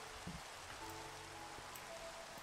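Rain falls in a Minecraft Pixelmon server, a soft, even hiss of video-game rainfall that stays steady and fairly faint throughout, with no voices.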